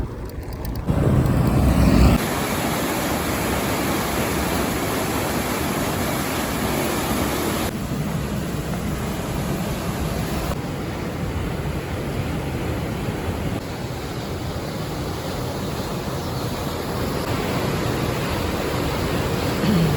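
A constant roar of water rushing out of Mangla Dam, broad and heavy, continues for twenty seconds with no voices. Its loudness shifts slightly at times.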